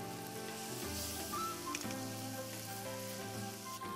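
Spicy Korean pork stir-fry sizzles loudly in a pan after gochujang is added, a dense continuous frying hiss with small crackles, close and steady with no talking.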